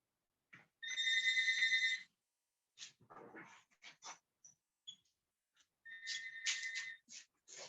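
Mobile phone ringtone ringing in two bursts of a bright repeating electronic tone, with short sounds and a brief stretch of breathy noise between them, fairly close and alone.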